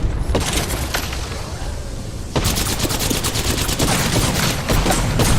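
Gunfire erupts in the battle royale video game Apex Legends: rapid automatic bursts and sharp overlapping shots crackle loudly and continuously, growing denser partway through, with no talking.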